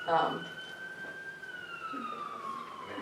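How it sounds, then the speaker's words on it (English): A police siren heard from a distance outside a live music café, with a steady wail that slowly glides downward over a faint background and a brief thump at the start, no talking. "I'm just listening to the siren."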